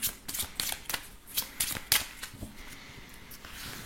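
A deck of tarot cards is shuffled for a reading, producing a series of crisp riffling bursts close by, followed by softer rustling with no voices.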